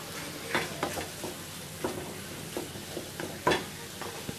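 Potatoes tossed into a wok with fried onions and ghee sizzle steadily, broken by a series of sharp scraping stirs of a spatula against the pan, with no talking.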